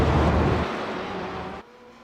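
Vintage race cars at Road Atlanta give a heavy, rumbling engine drone. It stays loud at first, then eases and drops off abruptly near the end, leaving a quieter distant hum.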